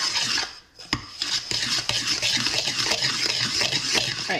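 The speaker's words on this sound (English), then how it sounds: "I'm gonna mix this together" Ingredients for mochi muffins being mixed in a bowl, with close clinks and scrapes of a utensil against the bowl in quick irregular strokes, no talking.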